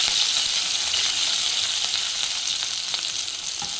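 A paste of coriander, garlic and ginger sizzles in hot oil, a bright, steady hiss heard up close with faint crackles and a few light pops, no speech over it.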